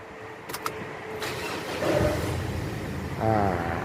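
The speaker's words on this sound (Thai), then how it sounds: "เดี๋ยวผมจะสตาร์ทเครื่องให้เพื่อนๆดูนะครับ" A lifted pickup truck engine cranks and catches, then settles into a steady idle, close by, after a couple of sharp clicks.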